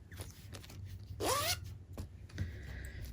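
A zipper on a small pouch is pulled in one quick rasping stroke, close and clear, amid soft handling rustles and light taps.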